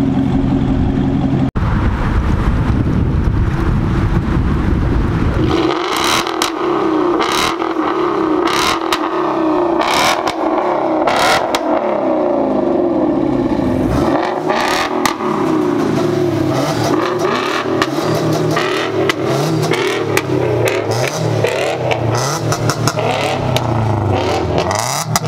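A Subaru-engined car drives past loud and close, its engine revving in repeated bursts over steady road and wind roar for the whole stretch.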